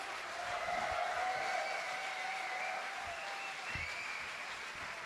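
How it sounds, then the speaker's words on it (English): Applause from a blues festival audience for the drummer, a steady dense wash of clapping heard at a moderate distance for several seconds, with no voices on top. "How about a round of applause for Brother Eddie Dejean on the drum."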